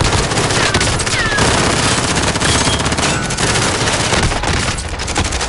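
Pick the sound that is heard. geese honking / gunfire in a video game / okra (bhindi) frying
gunfire in a video game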